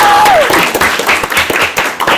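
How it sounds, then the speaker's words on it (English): A classroom audience breaks into loud applause for a guest, with a brief whistle-like tone at the start and uneven bursts of clapping and crowd noise through the short clip. "can we please just give an enormous round of applause for Geniah Danna"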